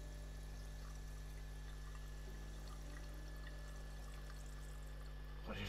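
Warm water pouring steadily in the video game New York Crimes, a faint continuous stream with a low hum beneath, ending in a brief louder splash.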